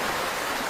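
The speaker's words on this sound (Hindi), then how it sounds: "बहता हुआ पानी" Water rushing in a stream or waterfall, a steady, full broadband roar heard close and without voices.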